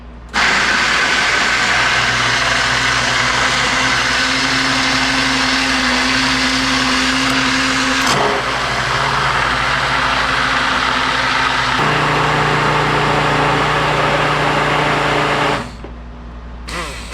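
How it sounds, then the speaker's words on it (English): An immersion blender purees a pot of tomato soup, running as a loud, steady whir for about fifteen seconds with slight shifts in pitch, then cutting out abruptly near the end. "Then we're going to get the immersion blender and we're going to make this smooth."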